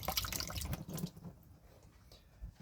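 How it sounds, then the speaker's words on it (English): A potato washed under a running kitchen tap: a brief spatter of running water with drips and splashes that fades quickly, faint and close. "we will just wash the potato under the tap"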